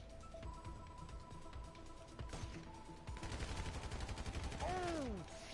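Gunshots in a PS4 shooter game, sniper rifle fire among busy bursts of shooting, loud and dense, with game sounds and voice chatter.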